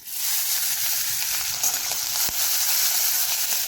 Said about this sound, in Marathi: त्यानंतर बाकीचे मसाले घालण्या अगोदर ना आपल्याला थोडीशी ही मिरची आहे ना ती परतून घ्यायची.